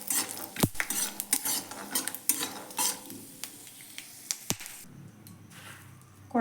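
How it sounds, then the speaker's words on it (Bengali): Peanuts fry in a pan while a metal spoon stirs them, giving sharp scraping clacks at an irregular rhythm over a soft sizzle. Near and clear, with no talking. "আমার কয়েকটি চীনাবাদাম ভেজে নিচ্ছি।"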